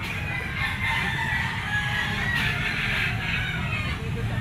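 A yellow-legged bull stag rooster crows amid a noisy poultry market, its call blending into steady crowd hubbub and other fowl sounds.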